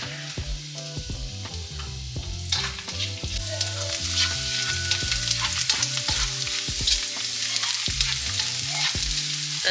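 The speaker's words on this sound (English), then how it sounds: "And then saute the rest of the ingredients, the vegetables." Vegetables with garlic and onion sauté in a pan, giving a steady sizzle and a rhythmic clatter of a utensil stirring and scraping. Music plays underneath.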